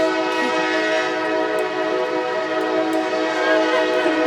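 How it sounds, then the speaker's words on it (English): A train horn sounds close and loud outdoors in Virginia, a sustained chord-like blare holding steady for the whole stretch with faint rumble of the passing train beneath and no talking. "You're hearing the train because we are outside of here in Virginia."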